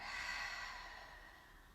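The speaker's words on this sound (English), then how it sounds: "Take a deep inhale. Deep exhale." A slow, deep exhale during a prenatal yoga session, heard as a soft, close, breathy rush of air that fades gently over a couple of seconds.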